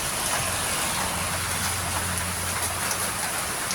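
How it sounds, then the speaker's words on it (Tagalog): Steady, gentle rain falls continuously during a typhoon season day, a soft even hiss with a faint low hum beneath and no voices. "Kasi mukhang yung ganitong klaseng ulan, pang matagalan to"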